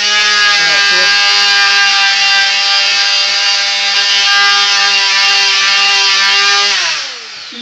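An oscillating multi-tool sands with sandpaper, a loud, steady, high-pitched buzzing whine held close for several seconds that drops in pitch as it winds down at the end.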